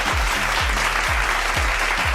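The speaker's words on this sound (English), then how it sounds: "Give yourselves a round of applause." An audience claps in steady, full applause that fills the room, loud and continuous without voices over it.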